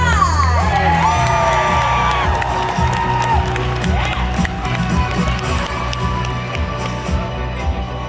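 A large crowd at a Cobra Kai Q&A at Liverpool Comic Con 2022 cheers and whoops loudly, with scattered shouts and clapping rising together in a sustained, noisy roar.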